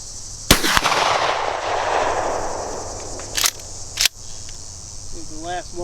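Sharp, loud gunshots from a 10mm Glock pistol or an M&P Sport 2 AR-15 at an outdoor shooting range: a close pair of cracks, then two more spaced seconds apart, with a brief voice near the end.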